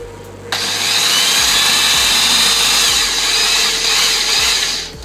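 A power drill bores a hole in wood with a steady, loud whine that starts abruptly and holds for several seconds, with a low motor hum and rumble underneath.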